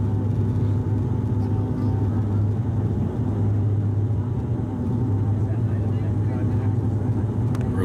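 Horizon Airlines Q400 turboprop touching down in Boise, heard from the cabin as a loud, steady engine and airframe roar with a slight dip mid-way as the wheels meet the runway and bounce.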